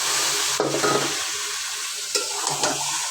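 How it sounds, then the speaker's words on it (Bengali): Beef being stirred into spices frying in a pot for a Bengali beef curry, with steady sizzling and two distinct scraping stirs of a spoon against the pan, close and fairly loud. "তারপর মশলার ভিতরে মাংসটা দিয়ে মশলার সাথে ভালো করে মিশিয়ে নাড়াচাড়া করে নিতে হবে।"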